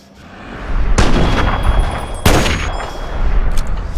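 Gunfire in the video game Fallout 3, with two sharp, loud shots standing out over a dense, continuous background of combat noise.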